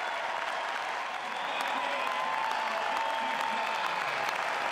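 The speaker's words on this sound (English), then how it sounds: "Gill Coliseum erupted with applause as Beavers won the title of Pac-12 champions" A basketball crowd at Gill Coliseum applauds as the Beavers clinch the Pac-12 title, a dense, steady wash of clapping and cheering that holds without a break.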